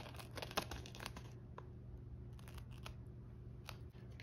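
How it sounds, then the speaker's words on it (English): Scissors snip and tear through a package, with crisp cutting clicks and crinkling plastic in a short, irregular burst, close and quiet, then a few more scattered crinkles. "With your pair of scissors, you'll first cut open the package."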